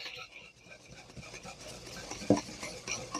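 A small whisk stirs dry cake ingredients for a spiced pumpkin cake in a bowl, soft irregular scraping and light clinks, close and quiet, with faint kitchen noise around.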